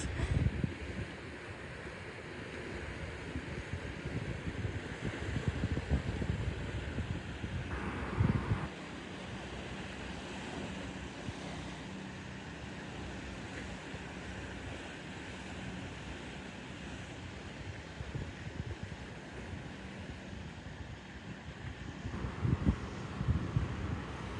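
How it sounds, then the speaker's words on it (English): Steady wash of water and gentle surf with wind rumble, a faint fishing boat engine drone underneath, in Hagi, Japan; calm and continuous with no voices. "let you listen to the water, to the sound of the water and the fisherman boat"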